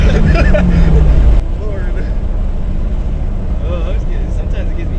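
A loud, rough Camaro SS engine running without a muffler roars steadily with a harsh, unmuffled rumble, its pitch shifting slightly as it runs.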